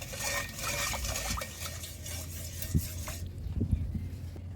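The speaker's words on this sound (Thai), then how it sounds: "เกลือป่นประมาณ1ช้อนครับผมคนให้ละลายเลยครับ" Fine table salt being stirred into about half a litre of water in a basin, a continuous scraping swish with occasional light knocks against the bowl, close and moderately loud with no talking.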